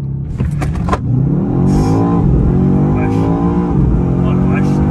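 A BMW XM V8 hybrid SUV engine roars hard and revs up through rising gears in a launch-control start, loud and close, with voices talking over it.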